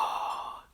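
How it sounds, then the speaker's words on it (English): A single quick breath drawn in before a held note on a wind instrument, close and soft, fading away within a second, with no talking. "So you take your breath."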